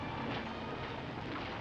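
A train travelling along a railway in mid-century Britain, a continuous close rumble of wheels and carriage noise with no voices, steady and loud throughout its short length.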